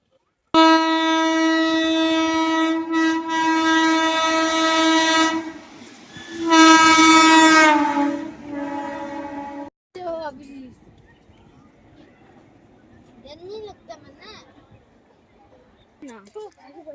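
At Palashi railway station, a train horn blares loudly and steadily for several seconds, then sounds again in a second long blast before fading. Quieter station noise follows, with people talking nearby.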